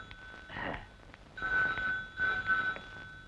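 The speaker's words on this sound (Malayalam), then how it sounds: "ക്ഷമിക്കണം, ഞാൻ ആ ഫോൺ അറ്റൻഡ് ചെയ്യട്ടെ" A telephone rings in a 1996 Malayalam film scene, a steady electronic trill coming in two long bursts after a brief softer one, fairly clear with no talk over it.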